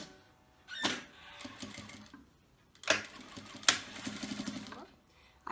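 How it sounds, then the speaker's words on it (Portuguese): A sewing machine stitching a bag seam while applying bias binding, running in short bursts of rapid mechanical chatter separated by pauses, fairly close and moderately loud. "E vamos costurar, cobrindo essa primeira costura que ficou aqui, ó."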